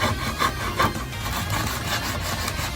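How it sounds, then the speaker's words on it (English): Sandpaper rubs along the sides of a groove in wood, widening the slot for a cane sword blade. The close scratchy strokes are loud and repeat in a steady back-and-forth rhythm, and nothing else is heard. "I'm just gonna take my sandpaper and just sand along these sides, you know, to make a wider groove."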